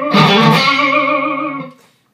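An electric guitar plays through heavy distortion at full gain: a single loud, biting sustained chord or note that rings out and fades over about two seconds.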